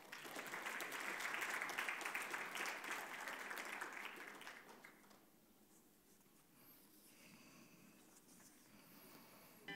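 Audience applause at an award ceremony for a history competition, dense clapping from a crowd that swells strongly at first, then fades out over a few seconds, leaving a quiet hall with faint background noise.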